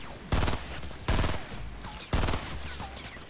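Fortnite Battle Royale gunfire in three sharp, loud bursts of rapid shots, about a second apart, with a lower game hum carrying on between them.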